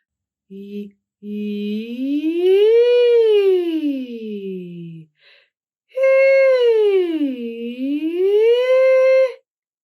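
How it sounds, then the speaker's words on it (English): A single voice sings sustained, breathy vowel glides, sliding up from a low chest tone into a lighter high register, then a second rising-and-falling phrase. "sing your chest voice notes a little bit quieter and with a slightly breathy tone on purpose"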